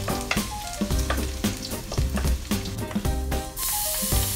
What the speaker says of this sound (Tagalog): Isa pong mainit na kuwali ay maglalagay po tayo ng mantika. Unahin po natin ilagay yung bawang.